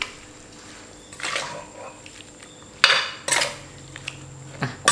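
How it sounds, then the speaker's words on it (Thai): Pomelo salad tossed with oil in a bowl gives a few scattered clinks and scraping bursts against the bowl, with quieter gaps between, close and fairly soft, with no talking. "จากนั้นก็คลุกนะครับผมคลุกให้น้ำมันเข้านะฮะคลุก"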